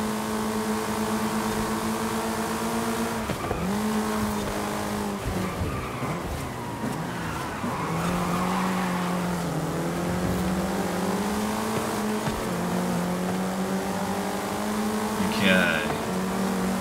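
Race cars in the Forza Horizon 5 game, a Porsche among them, hold a steady loud engine drone that shifts pitch as they rev and accelerate, with a brief high squeal near the end.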